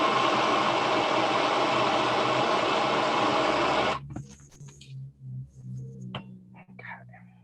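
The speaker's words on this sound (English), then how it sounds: "So we're going to heat it with our torch." A handheld torch flame heats brass wire for annealing, a steady close roaring hiss that stops abruptly partway through, leaving faint clicks and quiet workshop sounds.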